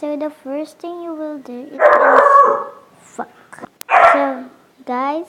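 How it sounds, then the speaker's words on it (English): A dog barks close by in short yipping bursts and longer harsh barks, repeated throughout, while a person talks in between. "that's just the dog."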